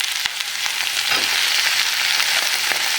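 Eggplant and drumstick pieces with tomato fry in a pan, giving a steady, loud, close sizzle with a few sharp crackles and pops throughout.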